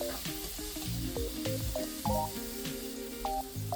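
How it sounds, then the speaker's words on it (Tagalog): Tomatoes sautéing after onions in a pan for ginataang monggo with pinakbet vegetables, a moderate sizzle under clinks and scrapes of a utensil stirring against the pan. "pagkatapos ng sibuyas ito namang kamatis syempre isag-isahin lang"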